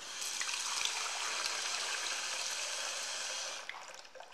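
Water pours steadily into a large laboratory beaker, a soft continuous splashing trickle that tapers off near the end, fairly quiet with no speech.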